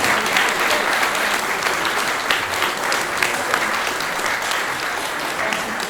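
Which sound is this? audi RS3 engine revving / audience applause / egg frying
audience applause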